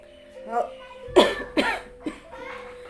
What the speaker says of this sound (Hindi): ऐसे थोड़ी बहुत खांसी भी आ जा रही है